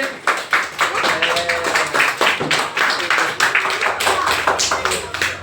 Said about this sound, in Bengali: হাততালি দাও ভালো লাগলে